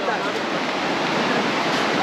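A river rushes far below a high suspension bridge in Boquete, Panama, a steady broadband roar of flowing water that holds even and continuous with no breaks.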